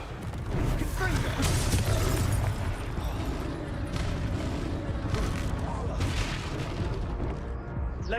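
Fiery Confringo spell blasts in the Hogwarts Legacy game land as deep booming explosions over a dense, rumbling combat din, loud and sustained, with a voice speaking over the action.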